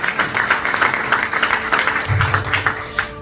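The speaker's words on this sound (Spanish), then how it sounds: "Dale fuerte ese aplauso al Señor." A church congregation applauds during a sermon. The clapping is loud, close and continuous, and a low hum or musical tone rises underneath partway through.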